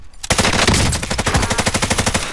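Rapid automatic gunfire in a multiplayer shooter video game, a loud close burst that starts abruptly and keeps a fast steady rhythm of shots.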